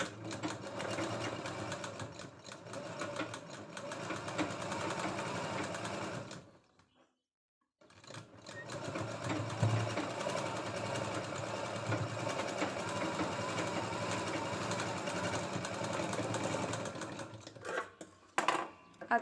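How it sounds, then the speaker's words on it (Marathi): A sewing machine stitches a katori blouse, running in steady close bursts with a brief pause partway through, then continuing with slight fluctuations; no talk over it. "व्यवस्थित ह्या टिपावरती ही क्रॉस पट्टी ठेवून आपल्याला याच्यावरून आणखीन एक टिप मारायची आहे."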